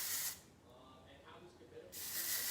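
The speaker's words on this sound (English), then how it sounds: "you're going to spray your texture spray" Texture spray misted onto curled hair in two short hissing bursts, one at the start and one near the end, with a quieter stretch of soft handling between.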